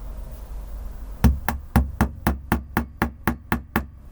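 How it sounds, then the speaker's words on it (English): A small nail is driven into a wooden frame with a hammer: about a dozen sharp, evenly spaced taps in a steady rhythm, close and crisp, with no talking. "I'm now holding a small nail in my hand. You want this kind of hammer"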